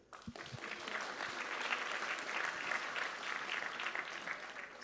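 An audience at a hackathon closing ceremony claps in a steady, broad roar of many hands that holds for the whole stretch, fairly distant and even.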